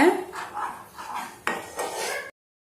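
A spoon stirs a thick tamarind candy mixture in a pan over a low flame, giving several scraping, clinking strokes against the metal before the sound cuts off.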